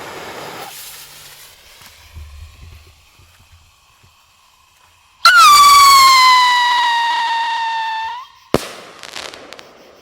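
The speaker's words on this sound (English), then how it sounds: "Since a lot of these companies are making these howling rockets now, it's a lot of fun to try out several different ones." A howling rocket firework launches with a loud rising whistle that shrieks steadily for about three seconds, then ends in a sharp bang, with faint outdoor background noise before and after.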